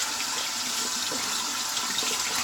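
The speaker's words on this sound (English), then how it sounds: "just going to wash my hands off" Tap water runs steadily into a sink during handwashing after a shave, a continuous close hiss and splash with small irregular splatters and no voices.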